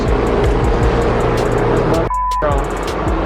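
A car engine runs loudly and steadily throughout, with a brief dip near the end before the drone returns, close and continuous.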